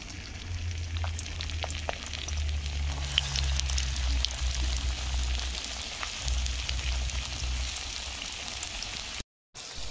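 Soybean omelette sizzling and frying in hot oil in a pan, a steady close crackle with faint pops and a low hum beneath, no talking.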